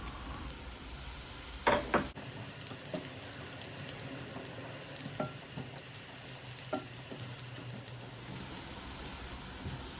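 Onion and garlic fry in a pan with a steady low sizzle, broken by a couple of sharp scraping stir strokes near the start and occasional small clicks throughout.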